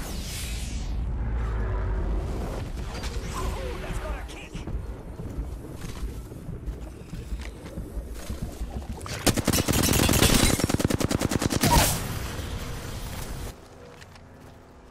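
Machine gun fire in the battle royale video game Apex Legends; dense, loud automatic bursts of rapid regular shots come in the latter half, following scattered gunfire and game noise, with a player talking throughout.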